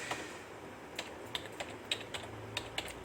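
An SQL query is typed on a computer keyboard with scattered, uneven key clicks, close and moderately loud over a faint background hum, with no talking.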